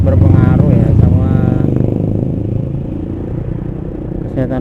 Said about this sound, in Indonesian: Perpindahan gigi di Ninja 250 Karbu.